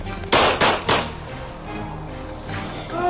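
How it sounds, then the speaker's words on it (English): A burst of three loud, sharp gunshots fired at close range during a police confrontation at gunpoint, spaced roughly a quarter second apart, followed by a lingering noisy background. "394 Central, shots fired."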